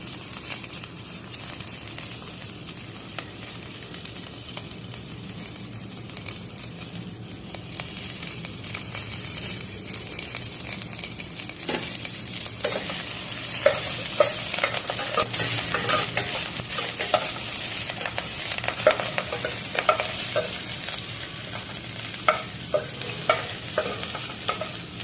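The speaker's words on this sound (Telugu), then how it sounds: "ఆ తర్వాత ఆనియన్స్ యాడ్ చేసుకొని అందులోనే కరివేపాకు కూడా యాడ్ చేసుకొని ఆనియన్ గోల్డెన్ కలర్ వచ్చే వరకు వేయించుకోండి" Onions and curry leaves frying in hot oil, a steady sizzle that grows louder and more crackly midway, with repeated stirring scrapes and crinkles close by.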